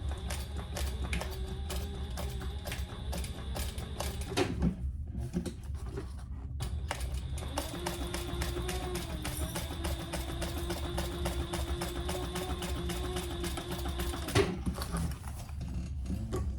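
A sewing machine stitches through a leather pouch and its lining with a fast, steady mechanical clatter, pausing briefly twice before running on, close and fairly quiet with no voices.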